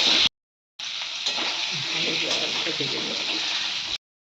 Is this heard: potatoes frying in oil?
yes